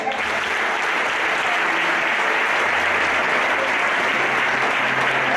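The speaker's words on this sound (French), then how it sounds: "Acclamez-les." A church congregation applauds a group during an Easter Sunday service, with steady, dense clapping that fills the room without a break from start to finish.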